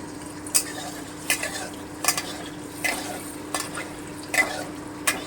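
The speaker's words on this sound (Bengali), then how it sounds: "আমি এবার পনিরগুলোকে খুব হালকা করে ভেজে নিব পনির একেবারে হালকা করে ভাজতে হয়" Paneer frying lightly in a pan for shahi paneer, with soft continuous sizzling under several sharp stirring and spatula scrapes spaced about a second apart, close and moderately loud.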